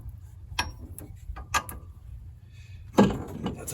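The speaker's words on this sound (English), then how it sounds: "jack underneath the lower control arm, and we're just gonna pump it up a little bit so that we can get this bolt back in" Hydraulic jack pumped up under the lower control arm of a Gen 3 Mitsubishi Montero during a lift kit install, giving a few separate mechanical clicks and ratcheting strokes, close and moderately loud, with a firmer clunk near the end.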